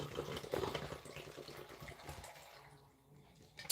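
Water poured from a bottle into a blender for beetroot and carrot juice in a home kitchen, a soft close splashing trickle with small clinks that fades near the end.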